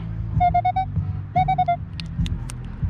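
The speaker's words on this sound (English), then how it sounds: "So you can hear those multiple tones coming across really quick" A Minelab Equinox 600 metal detector in beach mode chirps two quick bursts of rapid, bright multi-tone beeps close up, with low handling thumps and a few short clicks in between.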